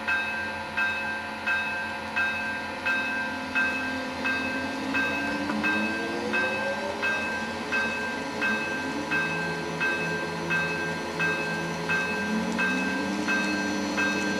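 Recorded sounds of a Siemens ACS-64 electric locomotive play from a model train sound card: a rising and falling motor whine over a steady rhythmic clicking and a faint ringing tone, with no talking.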